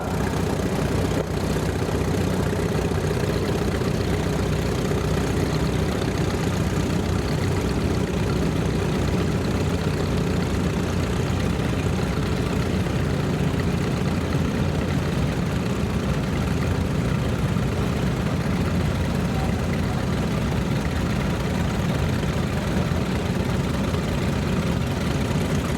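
An antique tractor engine runs at a steady, loud, low idle throughout a long stretch of a tractor show parade, droning evenly with no voices.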